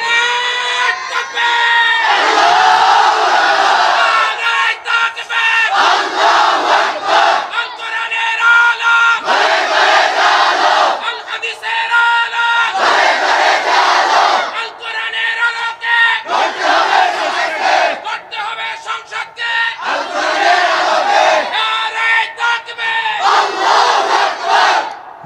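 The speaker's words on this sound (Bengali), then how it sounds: "এবার সবাই মিলে একটু আওয়াজ করে একত্রে তাকবীর দিতে হবে।" A large gathering at an Islamic sermon chants the takbir loudly in unison, in repeated surging rounds roughly every few seconds with brief gaps between them, filling the space as one massed roar of voices.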